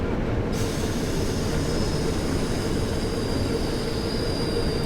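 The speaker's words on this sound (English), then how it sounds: "You can hear the brakes there kicking in." A diesel locomotive in the Train Sim World 2 game, Great Western diesel add-on, rolls with a steady loud rumble while its brakes kick in, adding a thin high whine that holds above the noise.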